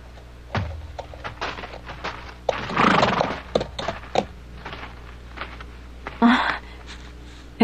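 Horses near an outdoor camp whinny loudly twice, with snorts, scattered hoof thuds and clip-clop steps around them, close and fairly busy, with no voices.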